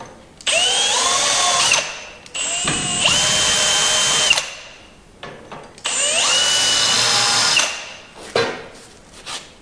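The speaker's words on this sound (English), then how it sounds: "I've just drilled this flex plate" Three long bursts of a power drill biting through a metal flex plate, high and whining, separated by short pauses and a few clanks at the end.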